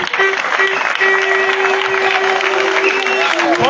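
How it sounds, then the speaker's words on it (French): A rally crowd applauds the population of Akébé in a loud, continuous wash of clapping and cheering, with a sustained tone running through most of the burst. "Je vous demande respectueusement d'applaudir la population d'Akébé."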